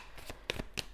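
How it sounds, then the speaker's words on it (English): Tarot cards being shuffled by hand, a quick close riffle of several soft papery flicks and slaps in under a second, quiet and dry. "the cards seem really difficult to shuffle"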